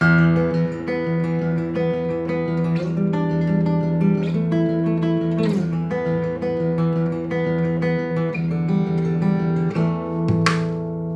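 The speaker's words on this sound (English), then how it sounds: "I'm playing all power chords with the same bass note. So I'm using the pedal tone quite a lot" Electric guitar power chords ring out over a repeated low pedal-tone bass note, strummed in a steady pattern with sustained, layered tones, in an ethnic world music style.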